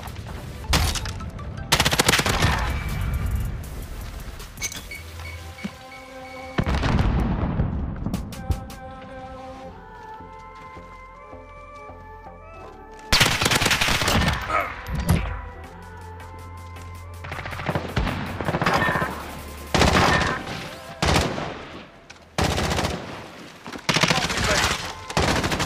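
M13 rifle gunfire in a video game, with repeated loud bursts of rapid automatic shots and single cracks spread across the clip, mixed with other game sounds.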